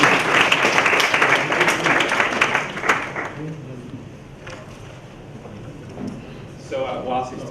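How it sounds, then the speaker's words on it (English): Applause from a conference audience, a dense burst of clapping in the first few seconds that thins out and fades, leaving faint room noise and scattered sounds. "round of applause."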